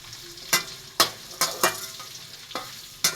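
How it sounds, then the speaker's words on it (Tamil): Small shallots sauté in a pan for fish curry under a soft steady sizzle, broken by about six sharp scraping stirs at irregular intervals, close and with no talk. "இப்போ சின்ன வெங்காயம் நம்ம இந்த அளவுக்கு நல்லா வதக்கிட்டோம்ப்பா"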